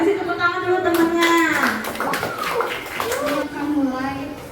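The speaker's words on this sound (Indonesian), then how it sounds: "Kasih tepuk tangan dulu temannya." A fifth-grade class of children claps for classmates about to present, a short patter of hands mixed with children's voices and a teacher talking over it.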